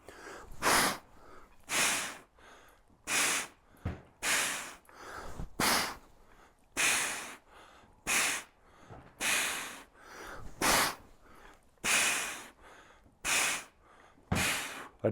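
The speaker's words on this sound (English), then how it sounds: "The beginner level of breathing is to exhale twice." A person trains with a mace through 360 swings and horse stance squats, breathing hard in a steady rhythm of forceful exhales, often in quick pairs. The breaths are close, noisy, and repeat for about fifteen seconds without talking.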